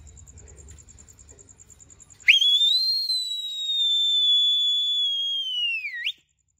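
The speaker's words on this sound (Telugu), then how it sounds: "రారా విజిల్ వేస్తా" A person in a village whistles one loud, piercing, sustained note that rises sharply, holds steady for several seconds and then dips before cutting off, after quiet background noise.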